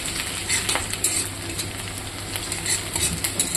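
Onion fries and sizzles in hot oil in a pan while being stirred for a fish curry, a steady crackling hiss broken by repeated scraping and clinking of the spoon against the pan.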